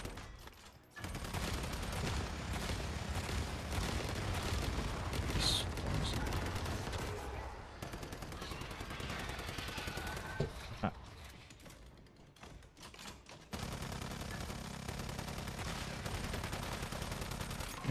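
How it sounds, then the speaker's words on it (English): Gunfire aimed at a player's turret in the game Once Human, with dense, continuous volleys of shots and mechanical clatter for most of the stretch, pausing briefly before resuming loudly. "He's shooting at my turret, that's nice."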